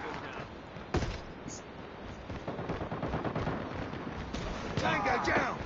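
Gunfire in Call of Duty: a few scattered shots and short bursts over a steady layer of battle noise, with a voice speaking through the clip.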